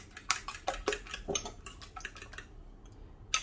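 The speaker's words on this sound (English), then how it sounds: "just whisk up your eggs so they're fully whisked" A fork or whisk beats eggs in a bowl in a steady rhythm of close, bright clinks against the sides, which slows and stops before a final tap.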